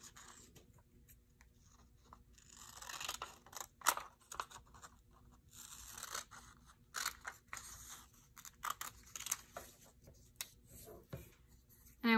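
Scissors snipping out a paper word label, soft irregular crunchy cuts and rustles up close, faint and quiet with no voices.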